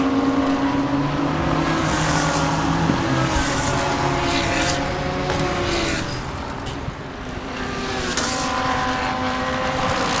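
GT3 race cars roar past during a Thailand Super Series race, several engines layered together, loud and continuous with shifting pitch as cars pass close by.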